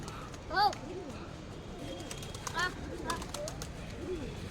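Pigeons at a home, giving soft repeated coos in short rising-falling phrases near and far, with background chatter and household noise underneath.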